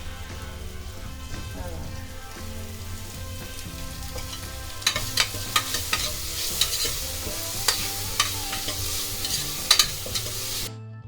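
Mushrooms fry in a little oil in a pan as they are stirred, giving a steady close sizzle with repeated sharp scraping clicks from about midway, and a low steady hum underneath, with no talking.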